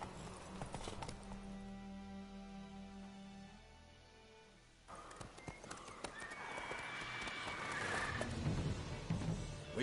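Roach, the horse in The Witcher III, clip-clops along with steady, close hoofbeats and lets out a whinny, over a low ambient game background.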